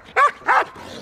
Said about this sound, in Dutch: Kijk dan, die is druk die hond